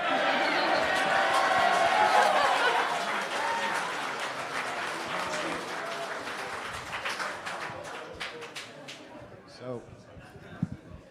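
Audience applause at a debate watch party, a broad wash of clapping that swells early then thins and fades, with scattered chatter and voices underneath as it dies away.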